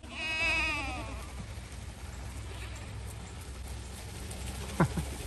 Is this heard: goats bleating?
yes